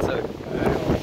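Strong wind blowing at a seaside fishing spot at Cap Barbas, a steady, loud rush buffeting the microphone for the whole moment.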